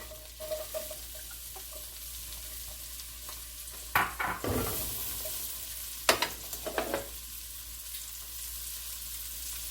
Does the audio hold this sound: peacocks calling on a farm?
no